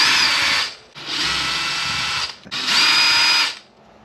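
A power drill whines loud and close as it backs screws out of a Maxx-Slash RC car, running in three sustained bursts separated by short pauses, with no speech.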